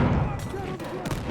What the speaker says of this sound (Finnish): Ui, mulla ammutaan.